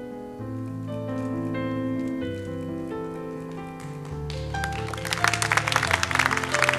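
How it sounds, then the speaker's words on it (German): Applause from the audience at an award ceremony rises under sustained musical tones, turning into dense clapping over the final couple of seconds while the music continues. "Applaus."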